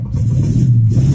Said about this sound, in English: So you stomp on the throttle to get it to start.